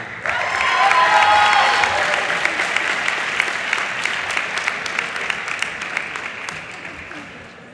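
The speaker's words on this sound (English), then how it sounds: "Round of applause to class of 2017." Applause for the graduating class of 2017 at a Penn Dental Medicine commencement, a broad wash of clapping that swells early and then slowly tapers, with crowd murmur and a voice briefly underneath.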